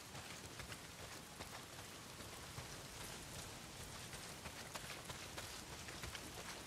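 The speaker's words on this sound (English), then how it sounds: "Well, not if it's pissing down rain." Heavy rain pours in the Days Gone video game, a dense, steady hiss of downpour with scattered droplet patter, constant and fairly faint throughout with no talk.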